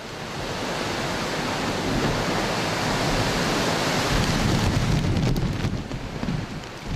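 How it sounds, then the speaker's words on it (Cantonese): Strong wind and heavy surf from Typhoon Mangkhut batter the Heng Fa Chuen seafront in Hong Kong, a loud, continuous roar of rushing air and crashing water with no letup. "杏花邨海旁嘅位置非常大風同埋大浪"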